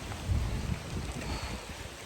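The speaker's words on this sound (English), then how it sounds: "All right, it's non-stop rain. It's pretty wild out here, and it's windy." Heavy, non-stop rain falls during a windy storm, a dense, continuous wash of noise with low rumbling wind buffeting the microphone.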